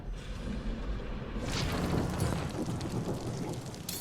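Stormy weather in a Guardians of the Galaxy game level, a low rumble of thunder building under a steady hiss of rain, fairly faint overall.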